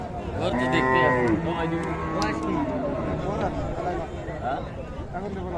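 Loud, drawn-out cattle moos from bulls and cows ring out close by at a livestock market in Raniganj, Dinajpur, over a busy background of chattering voices and crowd noise.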